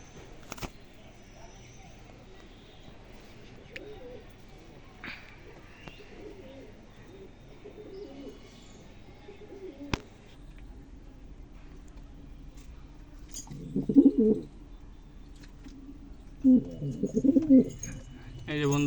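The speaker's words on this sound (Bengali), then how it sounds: "এখানে আমার বিডার পায়রা রয়েছে" Breeder pigeons in a loft give low, rounded coos in short bursts, mostly clustered toward the end, over a quiet background with faint rustling and occasional knocks.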